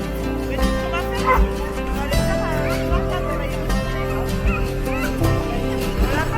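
Sled dogs at a sled station bark, yip and whimper in an excited, overlapping chorus, loud and close, with people murmuring beneath the barking.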